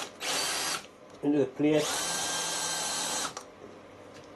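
A power drill bores holes into a steel plate for a weld positioner build, whining steadily for several seconds, with a brief spoken word partway through.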